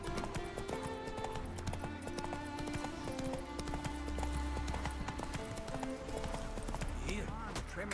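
Roach the horse gallops in The Witcher 3, a steady rapid clip-clop of hooves running under dense game music and sound effects, with some speech mixed in.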